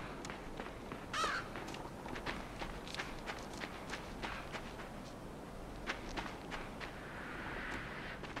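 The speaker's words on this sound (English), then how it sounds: "here are some more background noises, some cawing, some crows maybe" Crows caw as background ambience in the video game Limbo, faint scattered calls mixed with soft footsteps and rustling noise, distant and low in level.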